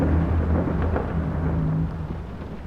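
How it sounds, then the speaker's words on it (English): Deep, loud thunder rolls in the horror video game Layers of Fear, a continuous low rumble that slowly fades over a few seconds with rain beneath it. "Thunder's super loud in this game."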